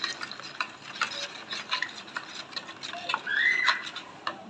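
A spoon stirring spice paste with water in a pan, with powdered coriander and cumin mixed in for a fish curry. Soft, irregular scraping and clinking strokes sound close but fairly quiet, with no talking.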